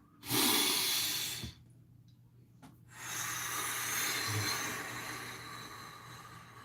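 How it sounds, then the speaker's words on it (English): A deep breath drawn during a guided meditation, a long airy inhale, a short pause, then a slow exhale, close and soft. "let's take a nice deep breath."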